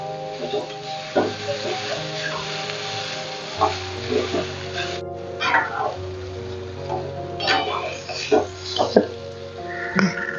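Grated sweet potato sautéing in ghee for halwa gives a soft, continuous sizzle with occasional stirring scrapes, playing under background music throughout.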